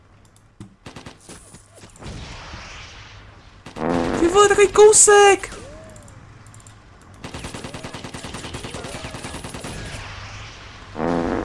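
Bursts of rapid gunfire in the game Soldiers: Heroes of World War II crackle in dense volleys, loudest in the middle, with people talking excitedly over the shots.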